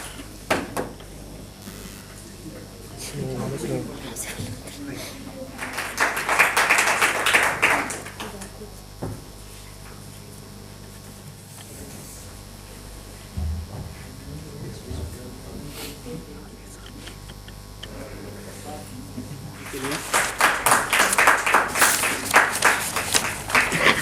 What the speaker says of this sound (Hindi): तो एक बार जोरदार तालियां इनके लिए।